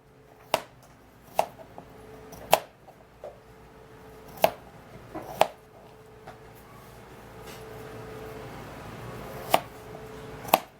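A knife chops an ingredient for a homemade skin remedy on a cutting board, sharp scattered taps landing every second or so at uneven intervals, close and fairly quiet with no talking.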